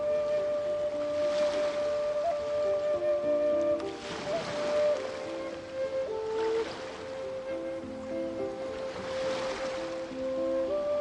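Ocean waves in the video game Genshin Impact, slow swelling washes of surf rolling in every couple of seconds under a sustained tonal music bed, with no talking.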